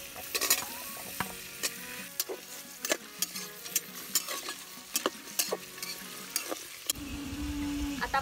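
Tomato and potato going into a pan for Ghati-style rajma, with close metal stirring clinks and scrapes over frying, then a louder sizzle near the end.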